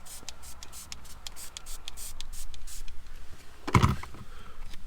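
A single short burst from a trigger spray bottle squeezed once while installing a Ford Bronco 12-inch screen protector, rising out of quiet rustling and handling noises.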